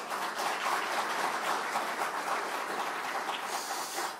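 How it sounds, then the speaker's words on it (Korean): A crowd claps steadily and continuously at a Korean Democratic Party leadership candidates' joint rally in Jeju, a dense wash of applause that holds at an even level throughout. "여러분 함께 들어주시고 함께 박수 쳐주시면 고맙겠습니다."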